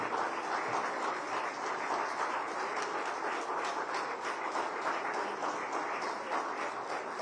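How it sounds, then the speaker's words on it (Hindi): Sustained audience applause at a large public event honouring the families of fallen soldiers, a dense, even roar of many clapping hands heard at a distance that holds steady throughout. "आप सब इतनी कस के ताली बजाएंगे"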